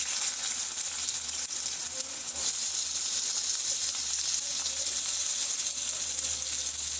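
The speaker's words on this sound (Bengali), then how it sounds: "আমি প্রত্যেকটা সবজি কড়াতে দিয়ে দিচ্ছি।" Homegrown vegetables fry in a kadai with little oil, giving a constant, bright, close-up sizzle that continues steadily throughout.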